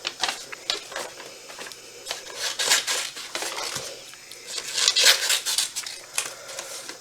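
Earrings being cut out make a run of quick clicking and snipping sounds in irregular bursts, close by, with some scraping handling noise in between.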